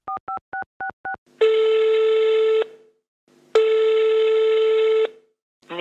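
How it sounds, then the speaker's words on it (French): A phone call is placed: five quick dialing beeps, then two long, loud electronic ringback tones separated by a short silence, with no voices. "elle trouve le numéro, et elle appelle"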